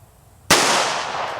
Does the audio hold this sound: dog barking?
no